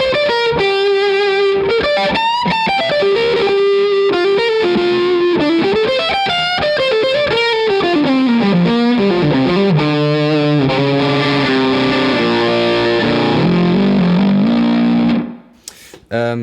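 Electric guitar, a Les Paul, driven through a 29 Pedals FLWR overdrive in an aggressive setting with slapback echo, plays loud sustained melodic lines and chords for about fifteen seconds before cutting off abruptly.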